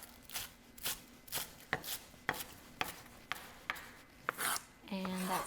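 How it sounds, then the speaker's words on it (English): A knife chops food thinly on a cutting board in a steady series of crisp, close taps, about a dozen strokes in even rhythm, before a brief voice at the end. "And then I'm going to just do some thin chopping like this."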